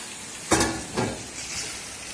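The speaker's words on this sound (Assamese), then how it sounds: "মাংসখিনি ফ্ৰাই হৈ আছে" Chicken meat frying in a pan, with two short bursts of sizzling and stirring that rise and fade against a low steady hiss, close and fairly quiet.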